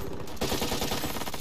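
Rapid automatic gunfire in the video game Ghost Recon Breakpoint, loud and close, a dense unbroken burst of shots with no talking.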